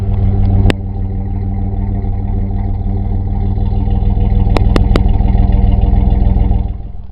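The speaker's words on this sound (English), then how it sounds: "gonna let you listen to the sound of the motor." A loud, close engine of a 13-year-old Dodge with a cold air intake runs at a steady idle that swells slightly. A few sharp clicks sound over the running motor.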